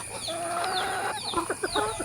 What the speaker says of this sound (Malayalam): ഇതെല്ലാവരും ഓടിക്കൂടിയിട്ടുണ്ട് കേട്ടോ.